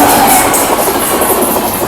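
The Sampoorna Kranti Express, 12393 from Rajendra Nagar Patna to New Delhi and running seven hours late, rushes loudly past at a station, a dense, continuous roar of wheels and carriages with faint hiss and squeal on top.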